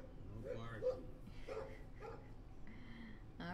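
A dog in the Life is Strange video game gives a few brief, muffled barks and whimpers at low level, mixed in with soft game ambience and quiet voices.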